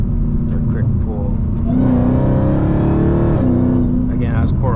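A Dodge Challenger Hellcat accelerating at quarter throttle, a deep loud engine drone that rises in pitch as it pulls, heard from inside the car and then easing off near the end.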